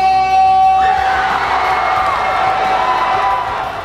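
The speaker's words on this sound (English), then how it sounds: "The crowd exploded when the win of 134-132, just 2 points, secured the win in the Blue Banners for the number 2 alliance" A crowd at robotics competition finals cheering and whooping, a loud sustained roar that swells after a sustained buzzer-like tone cuts off and stays strong to the end.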